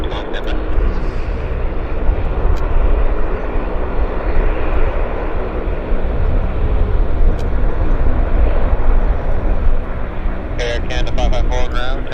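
A heavy airliner comes in to land at Vancouver Airport, its engines producing a loud, continuous roar throughout, with a burst of clicking noise near the end.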